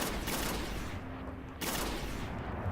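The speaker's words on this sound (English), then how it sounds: "So it's a burst fire pulse rifle." Rapid bursts of Bad Juju, an exotic burst-fire pulse rifle in the video game Destiny, crackling loud and continuous, with a brief lull in the middle before firing resumes.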